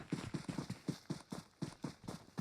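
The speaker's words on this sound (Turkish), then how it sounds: "Ayak sesleri." Footsteps in the mobile game PUBG Mobile, a steady run of soft, dull thuds repeating evenly at a jogging pace, heard alone and close.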